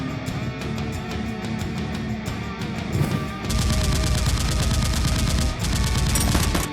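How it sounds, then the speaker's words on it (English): Heavy gunfire in a shootout between SWAT officers and criminals, with dense bursts of rapid automatic fire and scattered single shots that swell into a loud, sustained barrage for the second half. "A gunfight between SWAT and the criminals continues upstairs."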